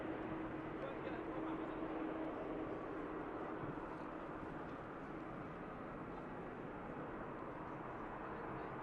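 A Juneyao Boeing 787 Dreamliner taxiing at Manchester Airport gives off a steady, broad jet engine rumble and hiss at a distance, continuous and unchanging for several seconds.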